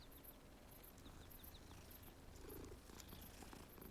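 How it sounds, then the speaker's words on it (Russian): A tiger cub in Hogwarts Legacy purrs in a steady, low, rough rumble that runs close and unbroken, with faint high chirps scattered above it. "И вообще это не кот, это тигр какой-то,"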